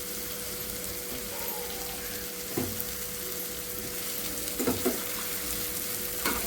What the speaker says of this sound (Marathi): आता वांगी भरलेली आहे, तिला पण जरा भाजायला टाकू आपण याच्यामध्ये.